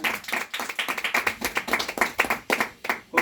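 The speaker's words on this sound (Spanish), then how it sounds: "dale un fuerte aplauso" A church congregation in Baranoa, Atlántico, Colombia claps together in a steady, fairly quick rhythm of distinct hand claps filling the room at close range, with no talking over it.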